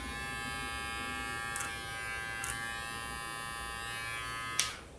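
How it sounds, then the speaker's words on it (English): A compact Low Pro electric hair clipper buzzes steadily up close, with a few brief clicks and a louder knock near the end. "I really like using this compact Babeless Low Pro clipper"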